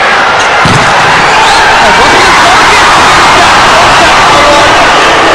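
Loud Chennai Spartans crowd at a 2019 Chennai versus Kochi volleyball match, a dense roaring wall of cheering and hubbub that fills the whole stretch, with a sharp slam of the ball near the start.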